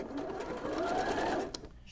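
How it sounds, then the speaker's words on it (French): A sewing machine runs a continuous zigzag stitch over a knee hole being repaired in a pair of jeans, whirring steadily and up close before slowing near the end. "je vais venir faire tout simplement un zigzag"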